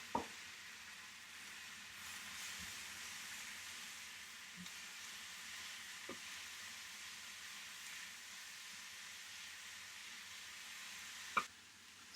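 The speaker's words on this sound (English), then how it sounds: "now I am going to add the 2 chopped tomatoes to my translucent onions" Chopped tomatoes going into a pan of translucent onions for a yellow lentil curry, giving a steady low sizzle that runs throughout, broken by a few sharp clinks and stirring knocks.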